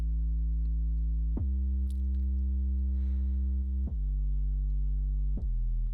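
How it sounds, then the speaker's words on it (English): An 808-style sub kick with sidechain compression in a distorted electronic track: a long, deep sustained bass tone that drops in pitch with each new hit, three strikes spaced a couple of seconds apart, loud and alone. "that's kind of just like an 808 style sub kick"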